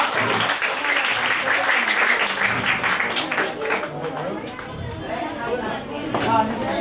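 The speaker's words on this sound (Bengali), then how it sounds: "ওকে, এবার জোরে তালি হবে, জোরে সরে একটা।" An audience claps loudly at a gathering of resident students, with steady clapping mixed with crowd chatter and voices throughout.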